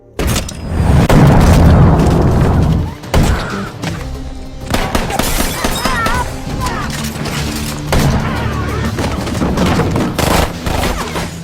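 Gunfire rings out in a brutal movie shootout, heavy booms and rapid shots crashing together at the start, followed by scattered bangs and impacts over a dense action soundtrack.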